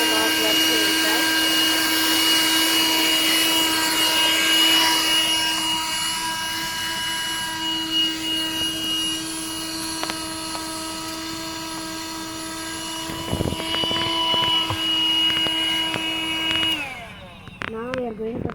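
Black & Decker handheld car vacuum cleaner running steadily at close range with a high whining motor and airy rush, its tone shifting slightly midway before switching off near the end.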